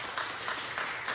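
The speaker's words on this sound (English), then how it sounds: "Let's give him a round of applause." Applause from an audience in a council chamber, a brief burst of many hands clapping, dense and steady at moderate volume with no voices.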